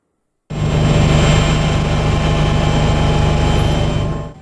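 Steady, loud drone of a traffic-patrol helicopter heard from inside the cabin, a continuous low rumble and whine that starts abruptly and holds throughout without other sounds.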